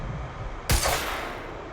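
A single sharp gunshot in the action game Quantum Break, loud and close, ringing out over a low ambient game background with a short decaying tail and no speech.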